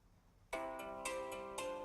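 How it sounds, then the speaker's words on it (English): A phone ringtone starts abruptly after half a second of quiet and keeps up a bright, repeating melodic tone with regular pulses, close and clear in a quiet room. "And that was my phone, of course."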